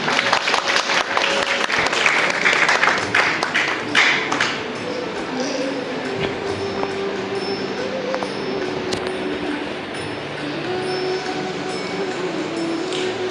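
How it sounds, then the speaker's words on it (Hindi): Audience applause at a workshop welcome with a bouquet presentation, a burst of clapping that is strongest for the first four seconds and then thins to scattered claps under a steady hum and faint voices. "जोरदार तालियों से स्वागत करेंगे"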